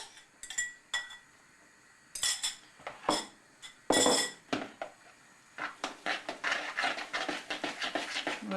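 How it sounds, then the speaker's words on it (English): A fork clinks and scrapes against a bowl while mixing egg into cheese for potato dumpling filling, irregular bursts of metallic tapping that quicken into rapid stirring toward the end. "We will mix the egg into the cheese, just mixing with a fork"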